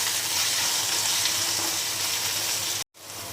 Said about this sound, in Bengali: আলুটা আমি লাল করে ভেজে নেব।